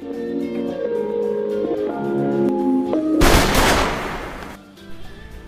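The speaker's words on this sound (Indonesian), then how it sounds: "suara tembakan pun terdengar hingga ke telinga Denji." A burst of gunfire in a Chainsaw Man anime episode, a loud dense volley that breaks in after a stretch of tonal background music and then fades away.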